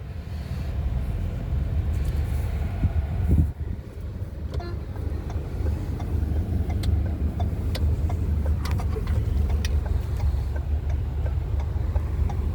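A car engine runs steadily during a driving lesson, a loud, constant low rumble heard from inside the vehicle, with a brief dip and thump partway through.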